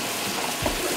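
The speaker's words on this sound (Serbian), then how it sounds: "uzet ću malo tečnosti pasulja, sipati u zapršku" Bean cooking liquid poured into a roux, a fried flour-and-fat base, makes a short, steady watery rush with a small splash near the end.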